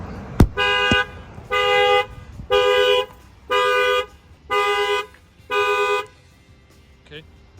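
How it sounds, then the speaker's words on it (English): A factory alarm on an Infiniti QX60 goes off after a window is struck, with two sharp knocks and then six evenly spaced loud horn honks in a steady rhythm, close by. "Now you're going to see that the alarm will trip."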